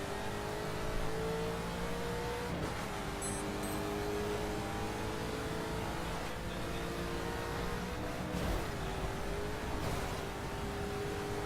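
A Maserati GranTurismo engine in The Crew racing game, a sustained close engine drone that rises and falls in pitch with gear shifts and revving, without any talk.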